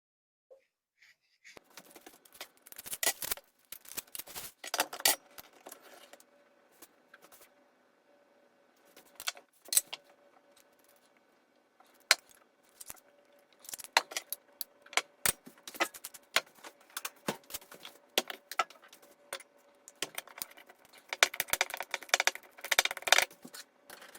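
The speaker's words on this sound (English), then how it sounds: "So first thing I'm going to do is cut these onions down." Onions being chopped on a board with a knife, giving irregular quiet tapping clusters that come in bursts with short pauses, close and faint, with no talk.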